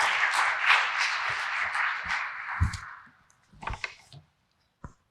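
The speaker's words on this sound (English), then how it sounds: "Let's give another round of applause for Dennis" An audience at the IEEE Vis 2022 conference applauds after a talk. A dense burst of clapping fades out over about three seconds, followed by a few scattered claps and small knocks.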